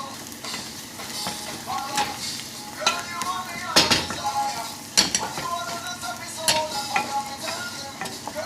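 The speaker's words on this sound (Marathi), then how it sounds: "सो आतां तो पेपर घालता" Coarse pepper added to golden-browned onions in a pan on the stove, with steady sizzling and frying, spoon stirring and occasional clinks of utensils against the pan, close and moderately loud.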